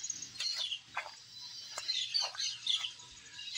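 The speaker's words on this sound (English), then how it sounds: "I hear a lot of bird activity." Several birds chirp and call in tropical forest on a hike near Arenal, with short, bright tweets and whistles scattered irregularly, fairly close and clear over a quiet background.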